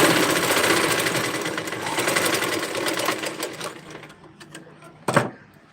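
A sewing machine stitches a blouse neckline in a fast, steady mechanical run that fades out after about four seconds, followed by a brief clunk and then quiet.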